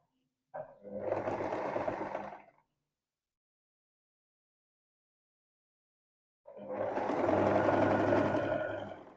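Two bursts of a sewing machine stitching blouse fabric, one about two seconds long and a louder, longer one after a silent pause, each a quick, steady mechanical whirr at close range.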